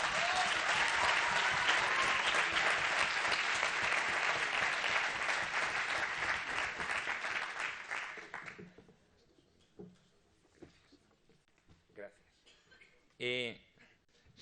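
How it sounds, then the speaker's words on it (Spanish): Audience applause for a four-member debate team at the final of a university debate tournament, dense sustained clapping for about eight seconds that fades out, followed by quiet room noise, a brief voice and a short burst of sound. "Un aplauso para ellos."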